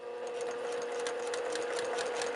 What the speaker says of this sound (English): I'm just going to stitch along 1/4 inch, and I'm going to stitch it right off of the edge.